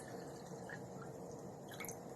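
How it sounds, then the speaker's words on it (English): Water is poured into an empty jar, making a continuous, steady gurgling, splashing flow with small drips. The sound is close, fairly faint and alone. "But now I'm going to pour in water and see if anything changes to"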